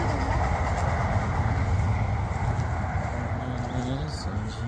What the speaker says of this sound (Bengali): মেট্রো আওয়াজ তোমরা